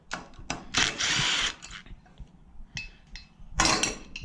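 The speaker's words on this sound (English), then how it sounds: "Pull these 3 1/4 inch screws out." Screws are taken out of the carburetor of a Kohler K181 engine, with short metallic clinks, rattles and brief scraping bursts that come in an uneven rhythm up close.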